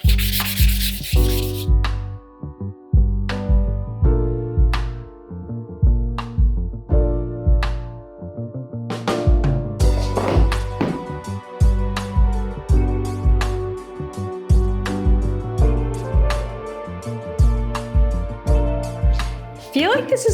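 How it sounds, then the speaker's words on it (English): Fine-grit sandpaper rubs back and forth over varnished wood in steady, rhythmic strokes, loud and close, continuing throughout. "I'm using a much finer grit sandpaper now for this last go"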